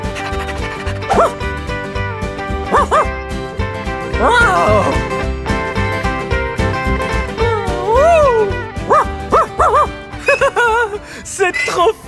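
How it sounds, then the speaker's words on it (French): Dogs barking and yipping in a stable, repeated excited barks and whimpers close by, mixed with lively voices talking over them throughout. "C'est là que les chiens dorment!"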